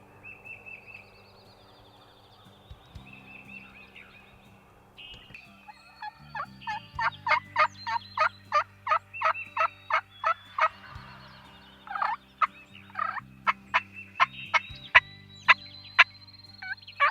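Wild turkey gobbling in the Missouri woods on a spring hunting morning, a string of loud, rapid gobbles repeating in bursts over quiet background with other birds calling faintly.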